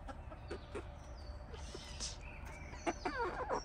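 Backyard chickens, including red hens, give soft clucks and short calls at close to middle distance, with a few brief higher squawks near the end over a low, quiet background hum.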